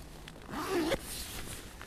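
A zipper on a hooped bivi bag is drawn closed from inside in one quick, fairly close pull lasting about half a second, followed by faint rustling in a quiet setting.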